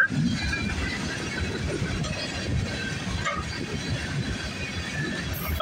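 Freight train rolling steadily past up close, a continuous loud rumble with rattling cars and faint clicking wheels throughout.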